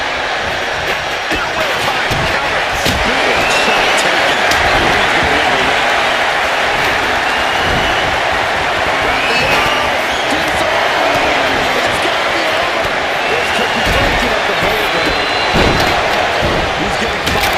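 A wrestling arena crowd in WWE 2K25 cheers and roars continuously, a loud, dense wash of voices with scattered thuds and slams, while a commentator talks over it.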